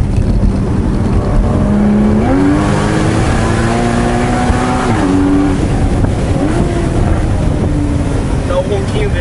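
Porsche Boxster GTS engine and exhaust rumbling as the car drives, with revs rising and falling through a few shifts, heard loud and close from inside the cabin under steady road noise, and a person talking over it.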